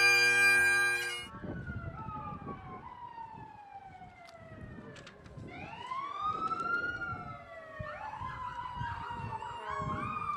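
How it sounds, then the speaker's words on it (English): At a St. Patrick's Day parade, a Bergenfield Fire Department truck siren approaches up the avenue, with long falling wails and rising sweeps, moderately distant over crowd and street noise, after a brief sustained musical tone at the start. "And now we hear the Bergenfield Fire Department under Chief Robert Burns coming up the avenu"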